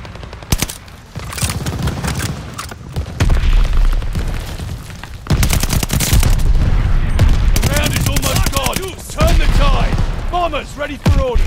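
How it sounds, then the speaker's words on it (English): Mortar shells exploding in a multiplayer shooter video game: repeated loud booms and bursts of gunfire crack in quick succession, with brief game voice callouts mixed in. "Mortars incoming!"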